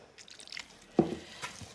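A small amount of water is poured into minced meat mixed with ground onion for cutlets, giving a brief close wet splash followed by a faint squish, with no talk.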